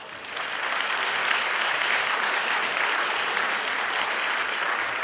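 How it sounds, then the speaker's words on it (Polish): Loud, steady applause from a crowd at a sports and martial arts gala in Białystok, a dense wash of clapping that holds evenly throughout without any voices. "Proszę o ogromne brawa"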